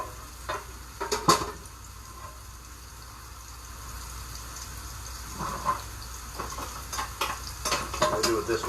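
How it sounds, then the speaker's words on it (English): Rice, mushrooms and peas are stirred in a pot, the spoon scraping and clinking in scattered bursts over a soft background hiss. "stir this up in here, make sure it's all evened out"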